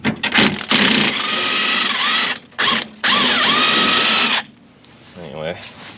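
A ratchet wrench backs out a control arm bolt on a Mazda Miata during a coilover install, giving loud, close bursts of ratcheting clicks in several runs separated by brief pauses.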